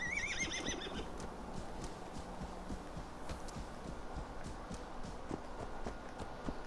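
A horse gallops in the Assassin's Creed Valhalla video game, with rapid rhythmic hoofbeats, a whinny at the start, and game ambience throughout.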